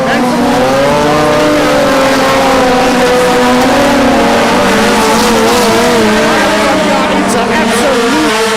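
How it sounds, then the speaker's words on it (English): Hot rod race cars on an oval track roar loudly and continuously as the pack charges down into turn one, engines droning and shifting pitch while a commentator talks excitedly over them. "absolute noise as they race down into turn number one"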